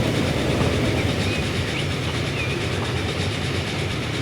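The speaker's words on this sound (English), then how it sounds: "Here comes another express train." An express train thunders past in Transport Fever 2, a dense, loud rumble with faint rail clatter that holds steady for the whole four seconds. No one speaks.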